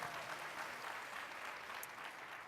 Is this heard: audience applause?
yes